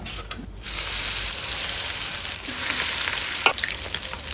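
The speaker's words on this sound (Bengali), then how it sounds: "এভাবে আমি সবগুলো মাছ ফ্রাই করে নিচ্ছি" Fish frying in hot oil, a loud, dense and continuous crackling sizzle that stays close throughout, with a few brief clicks and scrapes of a utensil and no talk.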